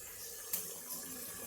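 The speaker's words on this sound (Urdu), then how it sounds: "تھوڑا سا پانی اور ڈالیں گے" A little water pours into a pot of chicken korma masala with a quiet, brief trickle and splash, faint and close.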